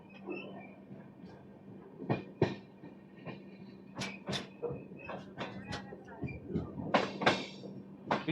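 Inside the 20811 Visakhapatnam–Nanded Superfast Express on a single-line electrified route, running below its usual 50–60 cruising pace: a steady low rumble carries repeated clunks, knocks and rattles of carriages over the rails.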